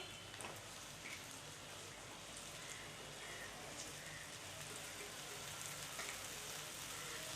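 Boiled abai bean pods fry in oil with masala, giving a soft, steady sizzle and patter with occasional faint stirring, fairly quiet and close, with no one speaking.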